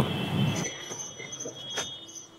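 The Kalka–Shimla Vista Dome toy train pulls into small Solan station with a faint rolling rumble and thin high wheel squeals drifting in and out.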